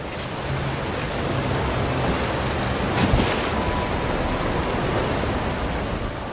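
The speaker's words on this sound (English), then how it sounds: "Here, behind the waterfall!" A steady, broadband rush of falling water from a waterfall in The Elder Scrolls Online's Clockwork City, heard close and continuous for the whole span, with no talk over it.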